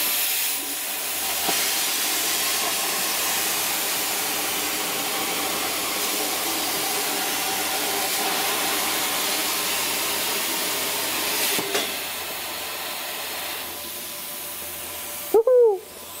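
A CNC plasma cutter slices through metal on a homemade plasma table, producing a loud, steady broadband hiss that continues for about fifteen seconds before cutting off.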